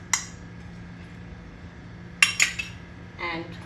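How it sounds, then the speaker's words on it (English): A pan set down with clinks of utensils and a metal spoon while ghee goes in, a few sharp clatters spaced over a few seconds against a quiet kitchen background. "we'll take a pan and add about 2 tablespoons of ghee in this"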